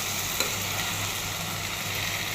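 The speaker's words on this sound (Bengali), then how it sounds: "পুঁই শাকের পাকনা বিচি ভাজি" Ripe Malabar spinach seeds frying in a pan give a steady, even hiss of sizzling that holds at a constant level throughout, with no talk.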